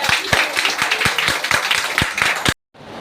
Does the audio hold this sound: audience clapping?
yes